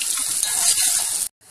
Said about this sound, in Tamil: அதை போட்டுட்டு கொஞ்சம் நேரம் மாறுற வரைக்கும் வறுக்கணும்.